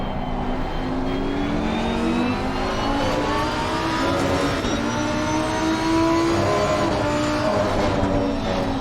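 Race car engines of a BMW and an Audi in Assetto Corsa Competizione at Valencia hold a steady, loud drone for the whole stretch, with pitch rising and falling through the gears and one car running just ahead of the other.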